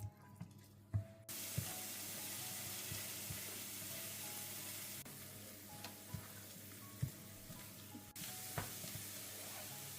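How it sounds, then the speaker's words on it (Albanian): Onions with red and green peppers fry over medium heat in a pan, a steady soft sizzle with occasional clinks and stirring taps, no talking. "Vazhdojmë tani në zjarr mesatar që t'i forgojmë për disa minuta derisa qepa dhe specat të"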